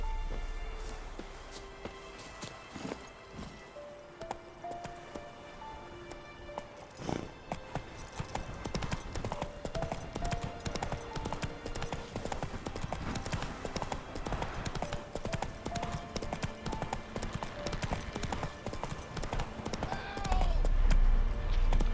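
Roach, the player's horse in the video game The Witcher 3, gallops with steady, rhythmic clip-clopping hooves that carry through the whole stretch, set against a busy game soundscape with music and ambience that swells toward the end.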